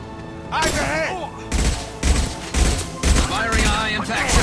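Gunfire from the video game Mass Effect 2, several loud rhythmic shot bursts with booming low impacts, layered over game music and effects.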